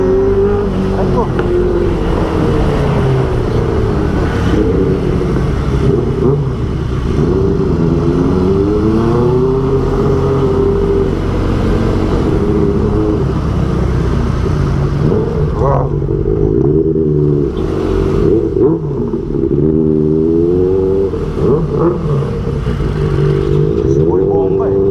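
A Kawasaki ZX6R motorcycle fitted with an Austin Racing exhaust revs loudly and continuously nearby, its pitch repeatedly rising and falling through throttle blips, with people talking over the engine.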